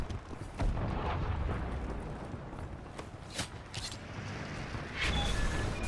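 Cannon fire and explosions in the video game Wolfenstein: The New Order, a continuous rumbling battle din with several sharp booming blasts scattered through it, fairly distant, no talking.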